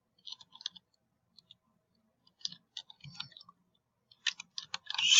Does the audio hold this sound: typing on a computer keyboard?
yes